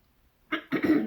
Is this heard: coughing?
yes